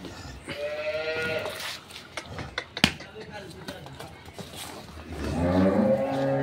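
Cattle on a dairy farm, cows and young bull calves calling with drawn-out moos and bleat-like cries near the start and end, clicks and handling noise between, people talking nearby.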